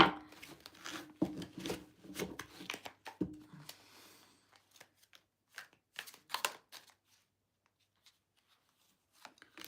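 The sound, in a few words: shuffling a deck of cards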